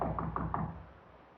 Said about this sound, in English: Someone's at the door.